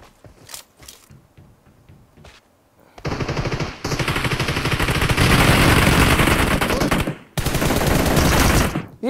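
Bursts of automatic gunfire in the battle royale game BGMI, a few short shots at first, then a loud sustained stream of rapid fire that pauses briefly and resumes.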